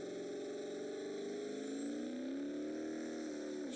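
Chevy turbo engine of about 450 to 460 cubic inches in a pulling tractor at a tractor pull, holding a steady loud drone whose pitch climbs gradually as boost builds, with a rising turbo whine above it, continuous and close.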